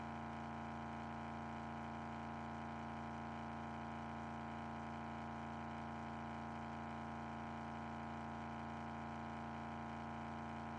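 A V8 engine in Drive Beyond Horizons drones at a steady, constant pitch while straining to tow a vehicle, a dense unchanging hum held at its limit throughout.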